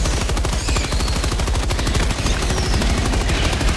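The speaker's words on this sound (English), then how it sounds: "Shooting it to get its attention." Dense, rapid automatic gunfire in the Helldivers 2 video game, loud and unbroken for the whole stretch, a steady rattling barrage with no talk over it.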